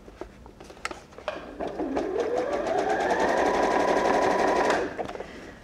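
A sewing machine runs a zigzag stitch down the edge of an overnight bag, binding fabric, lining and foam layers together; a steady close whirring hum of about three seconds builds up and cuts off, with a few clicks before it.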